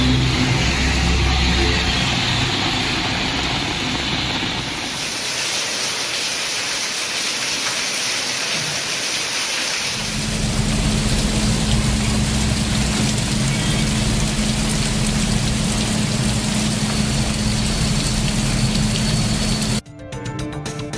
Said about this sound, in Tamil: மாலை வரை வானம் மேகமூட்டத்துடன் காணப்பட்ட நிலையில் திடீரென்று மழை பெய்தது